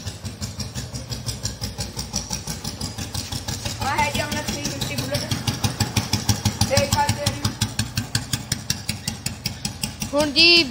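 Old Royal Enfield Bullet motorcycle with a starting problem and kickback, idling after a kick start with a loud, close, slow thumping single-cylinder beat that quickens briefly with throttle, while someone talks over it.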